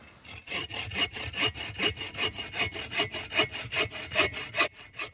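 An Agawa Boreal folding saw cuts through wood at a wilderness camp in Canada, making about a dozen steady, rhythmic rasping strokes, each push and pull close and distinct.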